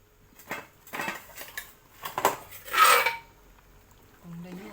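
Metal utensils clatter and scrape against a pot of bamboo shoot curry in several short bursts, with one louder clanking stretch near the end, no talking.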